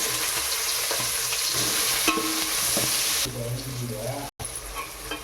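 Onions sizzle in a pan of spiced oil with cardamom for chicken biryani, a bright continuous fry with stirring knocks, easing in intensity toward the end after a brief dropout.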